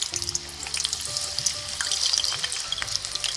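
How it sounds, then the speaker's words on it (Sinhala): Round potato slices frying in a pan of hot oil, giving a close, steady crackling sizzle with small pops, alone and without talk. "මුලින්ම තෙල් තාච්චියක් ලිපෙතන මේ වගේ අල රවුමට කපලා වදිනවා."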